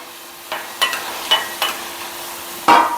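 Spoon scraping and stirring coriander chutney mixture in a hot pan, a series of about six sharp, close scrapes at uneven intervals over a faint sizzle, no voices.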